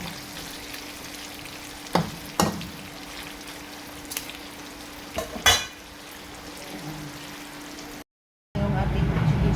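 Chicken skin frying in its own rendered fat gives a soft, steady sizzle, with a few sharp scraping stirs and taps of a utensil. Near the end, after a brief cut, louder frying noise takes over.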